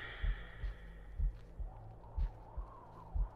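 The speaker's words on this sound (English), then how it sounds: "Can you hear my heartbeat?" A heartbeat sound effect from a scary horror video game: a slow, regular lub-dub pulse, about six beats over a low background hum, quiet and steady.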